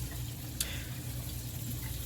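Water runs steadily through an aquarium sump under a newly built 70-gallon reef tank during a leak test, a soft, constant low rush and trickle with one brief splash-like click near the start.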